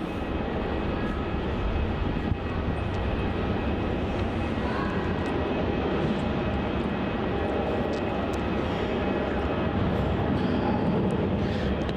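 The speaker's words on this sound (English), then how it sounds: "Departing off runway 27, we have Virgin Australia flight VA217 off to Adelaide." Virgin Australia jet departing Melbourne Airport on runway 27 for Adelaide, a loud continuous engine roar that stays steady and broad throughout.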